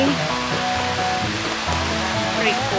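A waterfall near Liarsville, Skagway, Alaska roars as a loud, steady wash of rushing water, with voices and other tonal sounds mixed over it.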